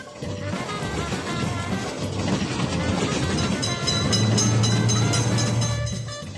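An approaching train in the Railroad Crossing Train Simulator mobile game rumbles steadily and loudly, with a low clattering drone that builds toward the end, where a deeper sustained tone joins it.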